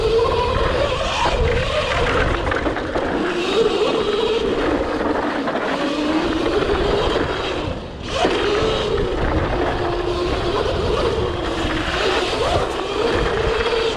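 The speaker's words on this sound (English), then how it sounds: "Electric motorbikes, super powerful." Powerful electric motorbikes ride downhill through Stockholm streets, giving a continuous whirring drone with scraping tire skids and gritty surface noise, briefly dipping near the middle.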